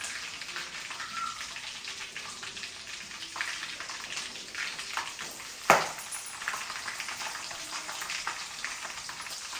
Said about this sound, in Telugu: ఇప్పుడు ఎల్లిపాయలు వేస్తున్నాను